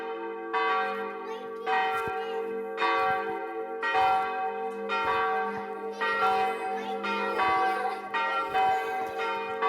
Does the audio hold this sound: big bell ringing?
yes